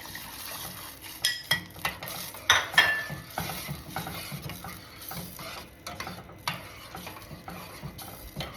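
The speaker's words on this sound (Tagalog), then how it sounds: "Okay, so melted na ang butter. Ilalagay ko na ang lemon na ini-squeeze ko." Squeezed lemon going into melted butter in a pan for baked salmon, with soft sizzling under a series of sharp metallic clanks and scrapes of a utensil against the pan, close and moderately loud.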